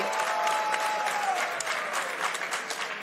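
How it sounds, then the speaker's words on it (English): A packed wrestling show crowd at the WrestleCon Mark Hitchcock Memorial Supershow cheers and applauds loudly and continuously, a dense roar of clapping with a few whistles rising near the start. "And this crowd is electric already"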